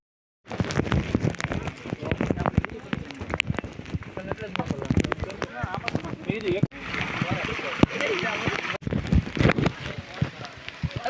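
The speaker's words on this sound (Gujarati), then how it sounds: "જો વરસાદ ચાલુ થઈ ગયો" Rain patters in dense, irregular bursts on surfaces on Girnar mountain, loud and close, with people talking over it.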